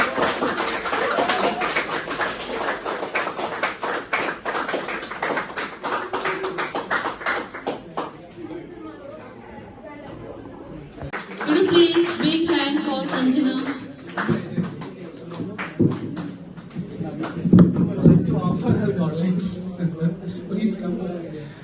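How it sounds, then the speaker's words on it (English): An audience at an English public-speaking seminar applauds a second-prize winner. Dense, crackling clapping fills the first several seconds and then thins out, while people talk and cheer over it and afterward. "A big hand for Shreyanshi."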